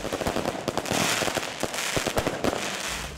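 Fireworks explode in a dense, continuous barrage of sharp cracks and pops at a large fireworks show in Broeksterwâld, loud and crackling throughout with no talking.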